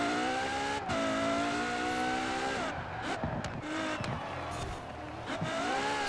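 A Lamborghini Veneno spins its wheels while racing in Forza Horizon 4, the engine droning at a high steady pitch, then dipping and rising, with tyre squeal and skidding mixed in.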